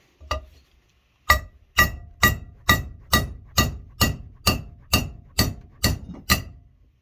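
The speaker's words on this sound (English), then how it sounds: "I'm going to go ahead and knock the rest of them out" Sharp metallic hammer blows ring out close by, knocking wheel studs out of a Mopar 8 3/4 axle: one strike, a pause, then about ten evenly spaced hits, each followed by a short ringing decay.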